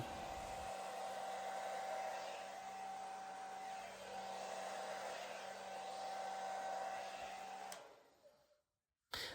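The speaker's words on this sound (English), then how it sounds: "I'm going to blow this out with a hairdryer first" A hair dryer blows paint with a steady, constant high whine, running for several seconds before switching off and leaving brief silence.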